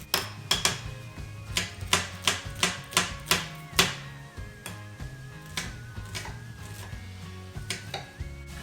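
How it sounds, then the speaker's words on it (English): A small onion is finely chopped with a knife on a cutting board for homemade sloppy joes, giving a quick run of sharp, close taps that slows into scattered chops, with music-like tones underneath. "we're gonna cut up one small onion. Just a little one. Okay. Cut it up pretty fine."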